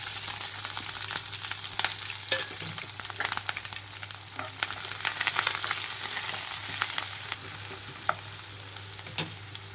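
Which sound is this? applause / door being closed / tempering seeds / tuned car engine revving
tempering seeds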